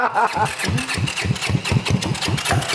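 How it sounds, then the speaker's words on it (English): A Honda motorcycle engine, its cylinder recently freed after being stuck, being turned over in a rapid chugging rhythm of repeated low pulses, close, with voices talking over it. "I'm gonna turn this motor over to see what kind of compression we have in the cylinder that was stuck"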